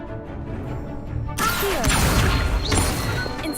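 The Incendio fire spell is cast in Hogwarts Legacy: after a quiet stretch, a sudden loud blast erupts, followed by crackling, whooshing fiery bursts that continue to the end.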